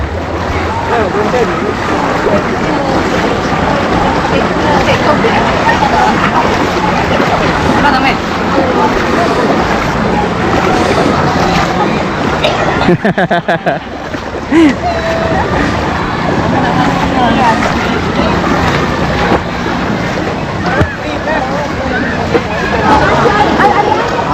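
Swift floodwater rushes through a flooded village river, a loud continuous roar and wash filling the scene from start to finish, with voices talking and calling over it.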